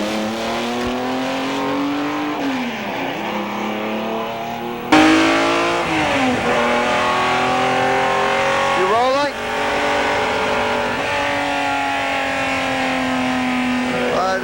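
A Ferrari LM race car laps Laguna Seca, its engine loud and close, with strong harmonic revs rising and falling through gear changes and corners while someone comments over it.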